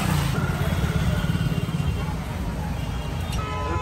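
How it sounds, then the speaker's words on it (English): Busy road traffic in India: a steady dense wash of motorcycle and car engines rumbles continuously at close range, with a faint brief horn-like tone near the end. "You know you're in India when the traffic is like this."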